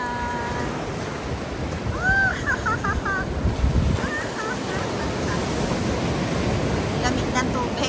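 Ocean surf rolls and washes continuously at a surfing beach, with wind buffeting the microphone and a voice briefly heard partway through.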